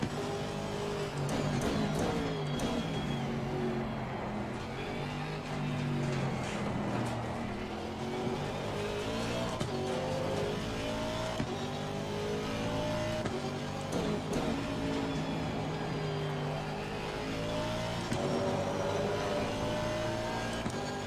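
A pack of GT3 race cars in Assetto Corsa Competizione roars continuously, engines rising and falling in pitch through gear changes, close and loud, with overlapping engine notes from rival cars and no talking.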